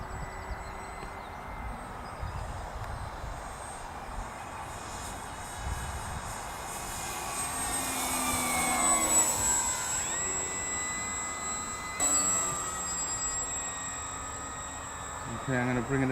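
A model airplane engine in flight, a buzzing drone that swells and dips in pitch as the plane passes and bumps around in the wind, fairly distant, with a short rise near the middle.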